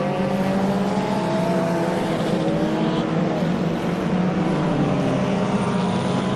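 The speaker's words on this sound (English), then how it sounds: "Wouter making his way around turn 3, trying to close down on that People Group Porsche." A Porsche race car engine drones steadily through a track corner during a regional motorsport festival round, a continuous loud roar with shifting pitch and no talk over it.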